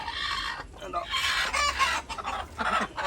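A chicken clucks close by in a busy, uneven stream of short calls, with little pause between them.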